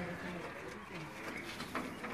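Pigeons gifted to a Sialkot pigeon fancier cooing softly in low repeated murmurs, with someone talking over them throughout.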